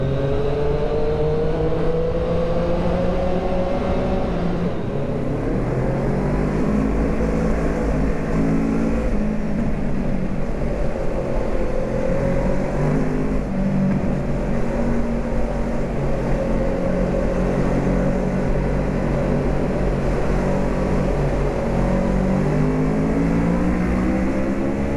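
A Triumph Street Triple motorcycle rides uphill through town, its engine note rising and falling steadily with a quick quickshifter gear change partway through, loud and continuous with no talking.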